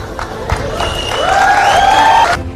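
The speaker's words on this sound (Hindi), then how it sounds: "एक बार हमारे सभी टीचर्स के लिए जोरदार तालियां हो जाएं।" Loud clapping and cheering for teachers, a crowd's applause swelling with a high sustained whistle or shout over it before cutting off.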